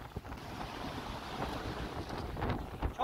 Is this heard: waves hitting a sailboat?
yes